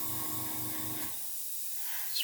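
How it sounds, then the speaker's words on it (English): A steady airbrush hiss of fine spraying thin white paint over tape, with a low pulsing compressor chug in the first half that then cuts out, leaving only the soft hiss. "spray this in here, keeping it dry, let it build up slowly, keeping the airbrush 90 degrees to the tape"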